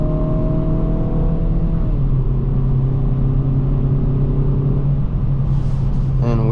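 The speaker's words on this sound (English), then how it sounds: "Hear that exhaust note a lot more in sport mode." Exhaust note of a 2023 Kia Forte GT in sport mode, a steady loud droning rumble heard from the cabin while driving, with engine pitch shifting slightly and a brief whirring near the end.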